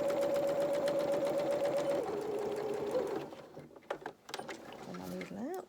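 A sewing machine stitches children's dungarees in a steady whirring run of about three seconds, then stops. Clicks and rustling from handling the fabric follow, along with brief talking.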